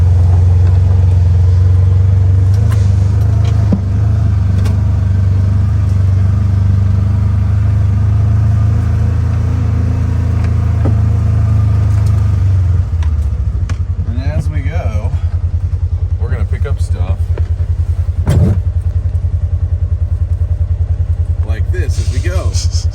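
A vehicle drives along a trail on a farm property with an abandoned homestead, its engine a loud, steady, close rumble throughout, with bumps and rattles later on.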